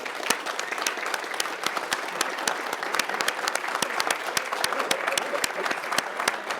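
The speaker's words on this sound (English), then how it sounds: "just raise your hand, and we'll give you a round of applause" Audience applause for city staff at a State of the City event in Woodinville, a steady dense wash of many hands clapping throughout, fairly loud and continuous.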